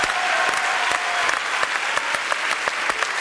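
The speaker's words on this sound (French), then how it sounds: "Applaudissements pour Jean-Marc, mesdames, messieurs." Studio audience applauding on a French television variety show, a steady, full wash of clapping that holds evenly from start to finish with no talk.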